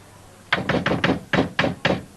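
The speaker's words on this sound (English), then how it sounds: "You'll have to knock a hell of a lot louder than that." Knocking on a house door in a 1980s British terraced street, seven firm raps in an uneven rhythm, close and loud against a quiet background with no talking.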